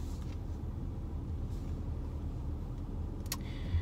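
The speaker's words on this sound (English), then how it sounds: "I have to wait for that car to leave" A car idling or rolling slowly nearby on a residential street, a low steady rumble that stays faint and continuous throughout, with a brief click near the end.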